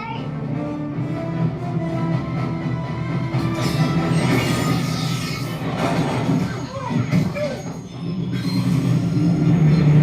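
A train rumbles steadily along the rails with metallic squeals and rattling wheels, loud and continuous, with faint voices mixed in.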